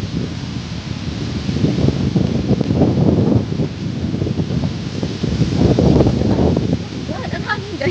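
Steady outdoor wind rushes and buffets the microphone at a public plaza amphitheater in Bogo City, Philippines, with rustling and faint distant voices underneath.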